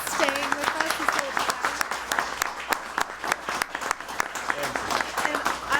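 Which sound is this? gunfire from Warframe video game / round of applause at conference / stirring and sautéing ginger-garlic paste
round of applause at conference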